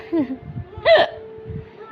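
A person hiccups loudly once near the middle, with a couple of softer hiccup-like catches around it, close to the microphone with faint background noise.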